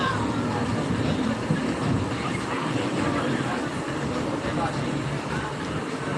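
Steady loud rumble and rattle of a running train heard from inside a passenger carriage, continuous throughout with no clear pauses, a broad dense roar filling the whole stretch.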